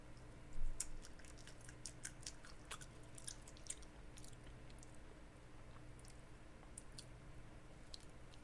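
Faint, close chewing and soft clicking bites on a thin, papery marshmallow ice cream cone that is not crunchy, continuing steadily and quietly with no talking.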